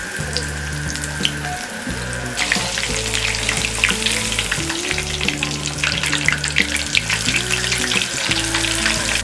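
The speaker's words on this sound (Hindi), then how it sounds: "इसमें हम ये सोया चंक्स फ्राई करेंगे। मीडियम फ्लेम में फ्राई करेंगे।" Soya chunks deep frying in oil on a medium flame, a loud, dense, continuous bubbling sizzle that fills the whole stretch and swells further after the first couple of seconds.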